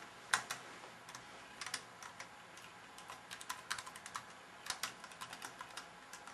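Computer keyboard typing while a TCL script is written on an AOL server: quiet, irregular runs of light key clicks with short pauses, no voices.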